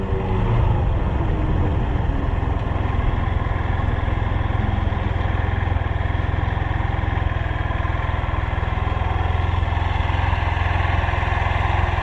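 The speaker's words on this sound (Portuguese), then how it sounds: "Aí a moto deu um barulho feio" Motorcycle engine on a Brazilian highway trip near Humaitá running rough, a loud, continuous low drone with a grinding, uneven edge, heard alone without any talk.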